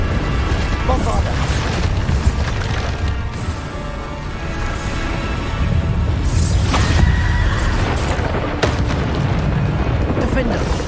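Repeated Bombarda blasting-spell explosions from the video game Hogwarts Legacy, loud booming bursts layered with game music and effects, running continuously through the stretch while a voice talks over them.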